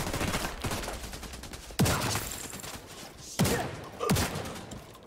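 Shotgun blasts in The Division 2, three heavy booming shots spaced a second or two apart, each with a sharp crack and lingering rumble over dense in-game battle noise.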